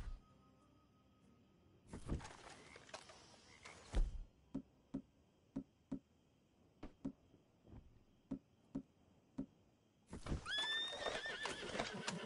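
Horses in Red Dead Redemption 2 let out loud whinnies at the start and end, with a slow series of sharp hoof clops in between.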